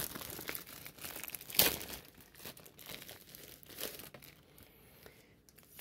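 Plastic wrapping on a football sticker magazine being torn open and crinkled by hand, close and fairly quiet, with bursts of ripping and scattered crackles over several seconds.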